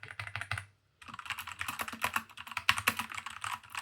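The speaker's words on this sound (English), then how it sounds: "I like typing this one." Rapid clattering keystrokes on an Aula F75 mechanical keyboard fitted with soft red switches, typed at close range in a quick irregular rhythm with a brief pause near the start, and no talking over it.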